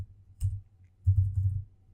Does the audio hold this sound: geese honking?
no